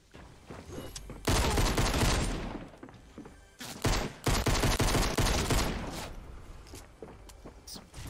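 Bursts of gunfire in the Fortnite video game, loud and close, in two heavy volleys separated by short pauses, with lighter thuds scattered between them.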